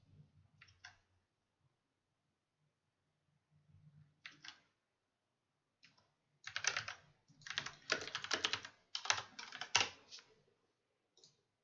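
Computer keyboard typing OpenGL shader code, quiet isolated bursts of keystrokes at first, then a denser run of rapid clicking with short pauses, close and clear.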